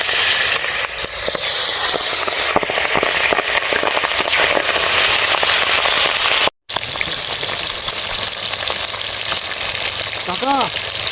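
Fish frying in hot mustard oil crackles and sputters loudly up close, a busy popping sizzle that cuts out briefly and then carries on, with a faint voice near the end.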